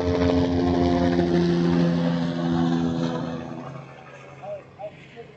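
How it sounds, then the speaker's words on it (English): Helicopters over Manhattan, heard from a ferry between the Statue of Liberty and the city, give a steady droning buzz with a low throbbing hum that fades out after a few seconds. "Constant buzzing of the helicopters."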